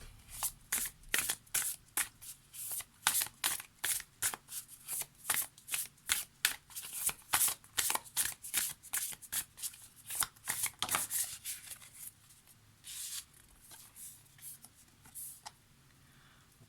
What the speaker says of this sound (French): on va terminer ici avec quelques cartes du Karmasana